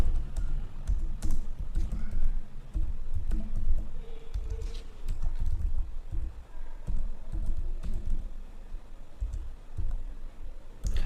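JavaScript code is typed on a computer keyboard in fast, uneven runs of close key clicks with short pauses between bursts.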